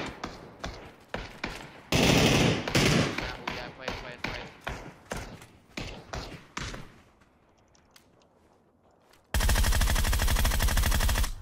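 Rapid bursts of gunfire from a video game, loud and repeated, mixed with excited talk and a sustained noisy blast near the end.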